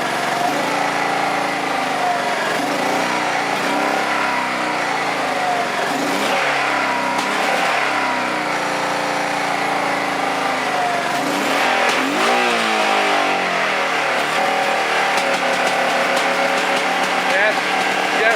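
A Honda PC800 motorcycle engine idles and takes light throttle blips, revving up and falling back with popping backfires, close and continuous, with someone talking over it.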